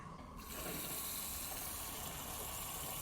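Water pours steadily into the reservoir of a Vego Gardens tomato planter, a continuous close hissing splash that starts abruptly and keeps flowing without pause.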